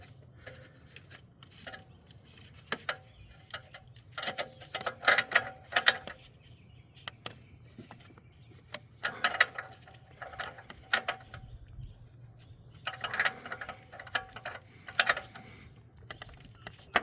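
Close, quiet clicking of a socket ratchet in short bursts as an air fuel ratio sensor is threaded back into a 2006 Lexus IS250, separated by pauses and faint handling noises.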